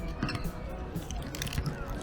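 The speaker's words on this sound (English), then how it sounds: "Since it's fresh, it's nice and crunchy." Biting into a fresh, crunchy egg yolk pastry at a Chinatown eatery, a few close crisp crunches and chewing sounds with restaurant murmur behind.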